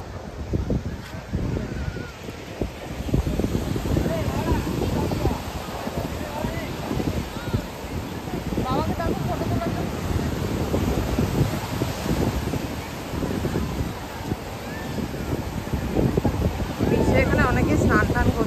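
Steady wind buffets the microphone at Auroville beach in Pondicherry, with a broad roar of surf rolling underneath, continuous and fairly loud throughout.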